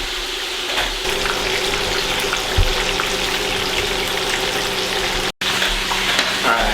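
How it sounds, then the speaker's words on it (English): Chicken sizzling and crackling as it pan-fries in hot oil, a steady close hiss with occasional pops and no talking. "the last two pieces are frying"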